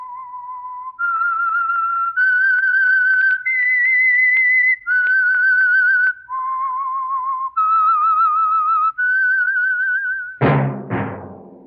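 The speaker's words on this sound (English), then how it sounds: "That whistle is your signal for the Signal Oil Program" A single person whistles a slow, clear melody of sustained notes, the theme of a 1940s radio program, ending with a sharp, resonant chime-like burst.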